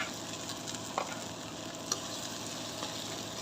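Garlic frying in oil with chili and chepa dried fish paste, steady crackling sizzle throughout with a couple of sharp stirring clinks, no talk.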